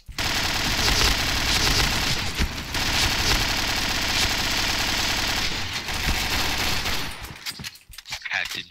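Loud, continuous rapid-fire gunfire in a video game, dense and nearly unbroken for about seven seconds before breaking into scattered shots and noise at the end.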